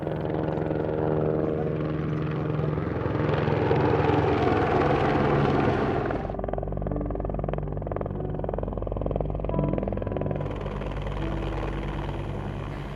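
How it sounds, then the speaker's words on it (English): Helicopter rotors thud steadily and loudly throughout as they approach up a valley, a dense continuous roar with a deep rhythmic chop that stays close and strong the whole time. "Eventually you hear the dull thud of the helicopters coming up the valley."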